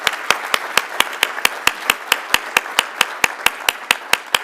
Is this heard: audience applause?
yes